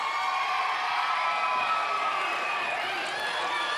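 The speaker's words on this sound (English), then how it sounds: "listen to this crowd go wild for Logan Legit" A wrestling event crowd cheers wildly in a sustained, roaring wash of voices, moderately distant and steady across the whole stretch, without a clear peak.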